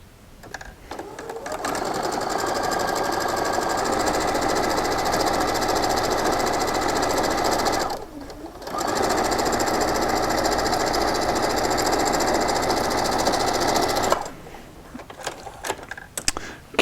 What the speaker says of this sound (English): And sew on this other side for us here.